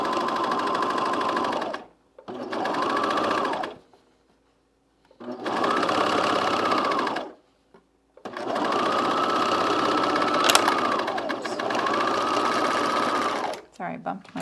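A sewing machine stitches a men's fleece pullover in several bursts of fast, steady whirring, each lasting a couple of seconds, separated by short silent pauses, close and clear.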